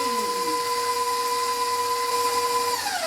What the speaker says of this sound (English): I'm going to cream the butter and the sugar together.